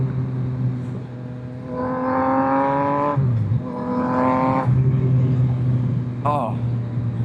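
A 2024 Yamaha XSR900 motorcycle with a flashed ECU revs hard twice, each rev climbing in pitch before dropping back to a rumbling idle, then gives one short, sharp blip near the end. The engine is close and loud.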